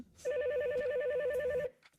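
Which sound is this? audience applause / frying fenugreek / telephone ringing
telephone ringing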